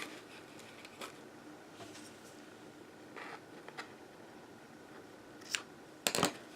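Scissors cutting the paper edges of a holiday treat holder, quiet crisp snips scattered across the moment, faint and close, ending with two sharper louder cuts near the end, in otherwise quiet room tone.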